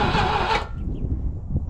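An abandoned Volvo 245, left standing for 19 years, cranks over loud and close for about half a second, then stops, leaving a low rumbling murmur.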